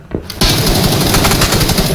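Loud, rapid automatic gunfire in the video game PUBG: Battlegrounds bursts in continuously after a brief quiet moment, a dense rattling stream of shots.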